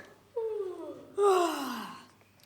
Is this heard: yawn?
yes